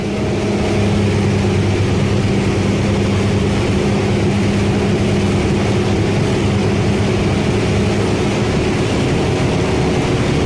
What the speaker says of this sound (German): Jetzt also zu dem blauen Hubschrauber.